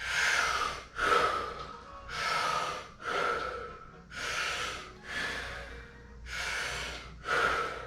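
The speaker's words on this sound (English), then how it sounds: "I'm gonna do one more round. Let's go for it. The third round's always the best." Wim Hof style breathing, part of a round of 30 breaths during a yoga session: deep, forceful inhales and exhales repeat in a steady rhythm, about one breath per second, loud and close with no talking.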